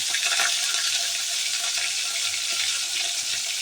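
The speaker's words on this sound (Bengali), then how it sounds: "এবার কিন্তু আমি মাছগুলিকে এক এক করে ছেড়ে দিচ্ছি" Fish slid one at a time into hot oil frying steadily, a continuous broadband hiss and crackle at even loudness throughout, close by with no talking.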